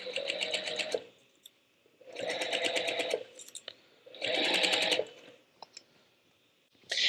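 A sewing machine stitches a quilt seam in three steady one-second bursts of rapid mechanical whirring. Quiet clicks and handling sounds fill the pauses between the bursts.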